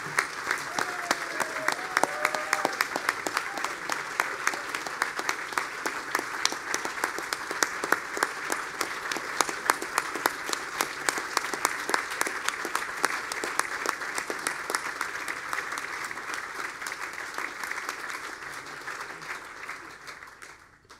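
An audience at a press freedom awards ceremony applauds, a long, steady round of dense clapping from a large room that carries on evenly before slowly thinning and fading out at the end.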